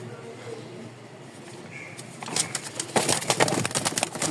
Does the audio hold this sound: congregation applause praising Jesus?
no